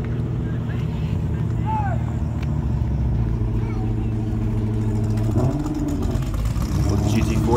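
Several supercars, among them a Ford GT40, rumble and rev together in a loud, steady mix of low engine drone, with a brief rising rev around the middle and over the last couple of seconds; faint voices are mixed in.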